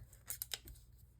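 Scissors snipping through craft material, a few quick, faint, close crisp cuts in a quiet room.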